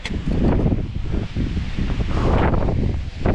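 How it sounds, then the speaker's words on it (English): Strong mountain wind on Hayden Peak buffets the microphone in loud, gusty bursts, a constant rushing roar with no talking. "it is so windy"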